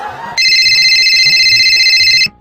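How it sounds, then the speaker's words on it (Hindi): A telephone ring tone sounds loud and steady for about two seconds as a call is placed, a bright electronic tone with low background noise and faint voices underneath. "अभी लगाते हैं किसी भी अनजान आदमी को फोन।"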